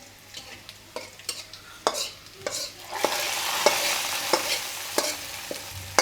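Chana dal stirred and fried in oil in a pan with already-fried onion and garlic: crisp, evenly spaced spoon scrapes against the pan, then a growing hiss of sizzling oil beneath the continued stirring, close by with no talk.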